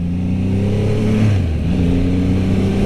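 A 2022 Triumph Rocket 3R, a very large three-cylinder production motorcycle, decelerates on the road, its loud engine note sliding down in pitch and then settling into a steady, close, throbbing drone.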